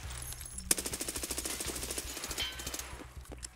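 Automatic gunfire in Escape from Tarkov: a fast, steady burst of roughly two dozen evenly spaced shots, close and sharp, with no talking.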